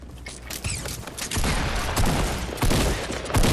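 Gunfire in a video game battle: dense, continuous rattling bursts of shots with mechanical clatter, loud and sustained throughout without a break and with no speech.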